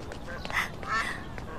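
Two ducks quacking indoors in a period drama, a couple of short nasal quacks close by over a faint background murmur.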